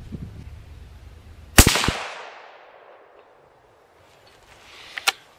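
A .223 Remington 700 ADL rifle firing full metal jacket handloads cracks sharply nearby, one loud shot with a decaying outdoor echo, then a second quieter report a few seconds later.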